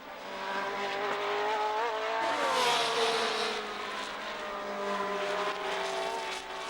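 1970 Formula 1 race cars, a Tyrrell and a Ferrari, scream past at high revs. A loud, sustained engine whine sweeps in pitch as the cars pass close by, with a faint squeal of tyres.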